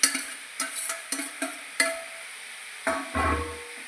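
Banana stem and boiled green gram thoran is stirred in a pan, giving a series of separate spatula scrapes and taps spaced roughly half a second apart, fairly close, with a faint sizzle between strokes.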